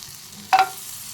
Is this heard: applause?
no